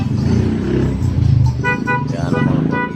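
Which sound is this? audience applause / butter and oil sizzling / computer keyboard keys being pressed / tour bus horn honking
tour bus horn honking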